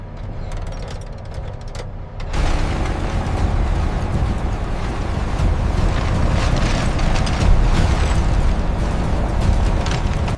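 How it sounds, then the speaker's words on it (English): Overloaded crane motors groan under extreme weight while hoisting a giant watermelon. A loud, dense mechanical rumble kicks in after a quieter opening and then holds steady and heavy to the end. "The overloaded crane motors groaned beneath the extreme weight."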